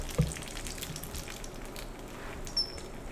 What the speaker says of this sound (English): That sizzle sound